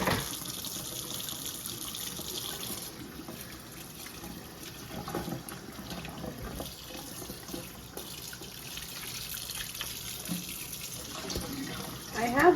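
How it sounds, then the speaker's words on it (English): Homemade bacon rinsed under a running kitchen tap, with a steady close gush of water splashing into a sink for the whole stretch and small shifts as the meat is moved through the stream. "just give it a quick rinse"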